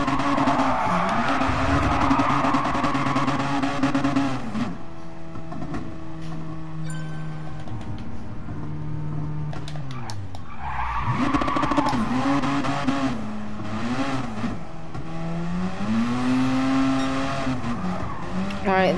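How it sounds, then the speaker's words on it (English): A race car engine in Gran Turismo revs hard nearby, its note climbing and falling through repeated throttle blips with rough bursts between, tires briefly squealing partway through. "Just gotta crackle my exhaust."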